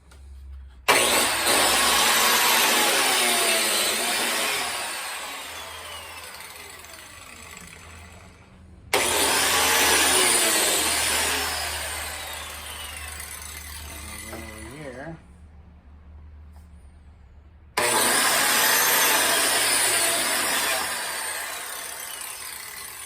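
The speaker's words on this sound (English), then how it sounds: "I marked the wood where I'm going to cut the biscuits" A biscuit joiner cuts number 20 biscuit slots in wood, three separate bursts of loud high whine, each starting sharply and slowly winding down, with quiet gaps between.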